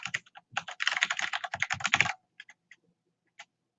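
Rapid clicking of a computer keyboard as a username is typed into a terminal, a quick burst of close keystrokes followed by a few isolated taps and a final sharp key press.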